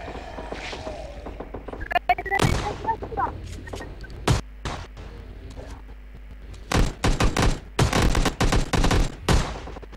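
Shotgun blasts in a zombie video game, loud broadband booms, first spaced apart and then several in quick succession, over game sounds and some voice.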